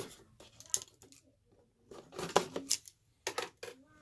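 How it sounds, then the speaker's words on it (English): Scissors snip repeatedly at crinkly packaging, several short clipped cuts with pauses between, close by, no voices. "Use these scissors here."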